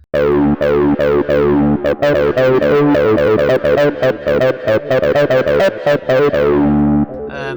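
A buzzy, distorted TB-303-style acid synth bassline plays a fast, choppy sequence of squelchy notes with resonant sweeps, loud and steady, then cuts off.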